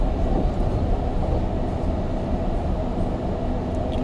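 An REM light metro train rolls southbound over the Samuel de Champlain Bridge toward Brossard, heard from inside as a steady, loud rumble with continuous wheel and rail roar and no talk.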